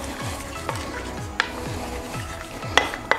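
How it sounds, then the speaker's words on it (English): A utensil stirs a single scrambled egg in a pan, making soft scraping strokes in a steady rhythm over a quiet sizzle, with a few sharper clicks against the pan. "Keep stirring."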